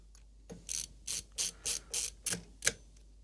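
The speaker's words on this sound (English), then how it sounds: "Then we have the screws to lock it down in. And then we use my definitely the correct size drive tip screwdriver." A screwdriver ratchets as it drives screws to lock a part down during a small repair, giving a rhythmic series of about eight clicking, grinding turns at close range in a quiet room.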